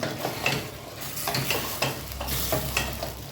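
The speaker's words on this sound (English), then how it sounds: "Give it a good mix." Food, including green onions, is stirred in a pot, producing repeated scraping and shuffling strokes over a low, steady sizzle, moderately close and with no one talking.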